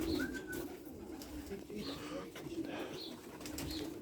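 Soft, repeated cooing of pigeons over a steady low background hum, with a few faint calls spaced through the clip.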